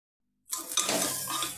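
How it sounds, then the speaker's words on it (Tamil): Ginger garlic paste hitting a hot pan and being stirred, a sudden sizzle starting after brief silence then a steady frying hiss with scraping and clinks, close up. "இப்போ இந்த இஞ்சி பூண்டை போட்டுடலாம்."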